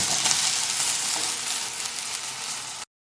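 Onion, green chilli and freshly added tomato sauté in a pan for carrot chicken gravy, giving a steady, close, loud sizzle that runs unbroken for nearly three seconds before cutting off abruptly.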